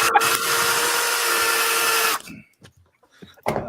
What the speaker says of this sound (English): Drill right through the sample bottle